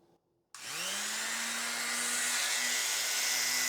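A Hanabi 135W mini rotary tool clicks on after a short silence and spins up into a steady, close, high-pitched whine that holds at full speed without any talk.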